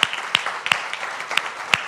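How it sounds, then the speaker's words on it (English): A church audience honouring mothers on Mother's Day claps in a brief, sparse patter of separate hand claps, fairly close and steady, without voices. "thank our mothers with a round of applause"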